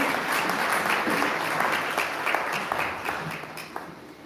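An audience at a security and safety team launch event in Kenya gives sustained, fairly loud applause, a dense continuous clatter of many hands with no one speaking over it.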